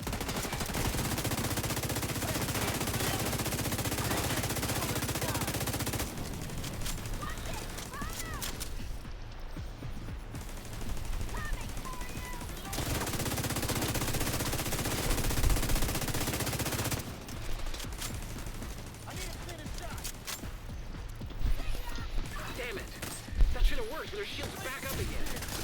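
Electric bullets fire in a video game battle in Brooklyn, dense rattling bursts of gunfire that come and go in long stretches, with someone talking over the action.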